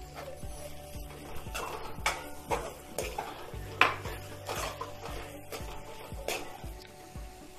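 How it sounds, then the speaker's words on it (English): Paneer and salt stirred in a pan until dry, a spatula knocking and scraping the pan in a fairly regular rhythm over a faint sizzle, close but quiet, with no talking. "Now we can add paneer and salt till it becomes dry."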